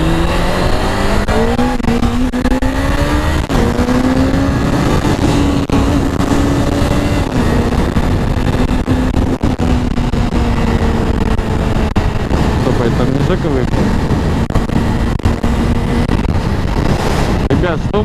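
A car drives at night through city traffic along an embankment in St. Petersburg, with a steady loud engine hum and road rumble throughout and shifting engine tones as it speeds up and slows down.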